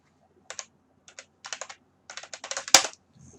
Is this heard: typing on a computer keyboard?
yes